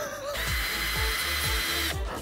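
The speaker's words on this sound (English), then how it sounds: "Let me drill a bit more" A power drill whirs steadily into the cork of a bottle of extremely strong beer, a close, loud high-pitched motor whine with rhythmic low thumps as the bit bites in, then spins down.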